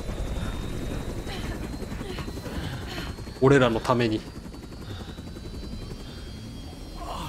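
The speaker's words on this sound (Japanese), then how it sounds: "ヘリ落ちすぎじゃない。" A helicopter in the video game Resident Evil 6, its rotor thudding steadily in the background while players talk over it, with a brief louder burst of sound midway.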